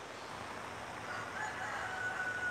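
A rooster crows faintly in the distance over a steady outdoor background hiss, with the call rising slightly toward the end and no voices present.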